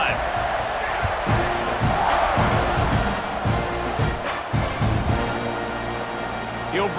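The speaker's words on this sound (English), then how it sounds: "this crowd is feeling themselves after that last drive" Football stadium crowd roaring and cheering steadily during a kickoff, a dense loud wash of many voices with swells, while a commentator talks over it.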